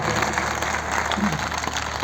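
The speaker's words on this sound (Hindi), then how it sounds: "जोरदार तालियों से अभिनंदन करें इस गीत का" A crowd at a poetry memorial gathering for a martyred soldier gives loud, sustained applause for a recited song, dense continuous clapping with a faint voice briefly underneath.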